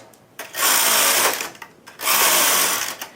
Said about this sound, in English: your knitting machine knits very, very fast